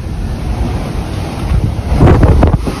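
Strong wind buffets the microphone on the Moroccan coast as waves crash and spray water high. The roar swells and surges louder near the end, with no talking.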